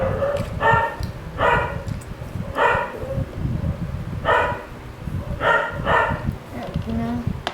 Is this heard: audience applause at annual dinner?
no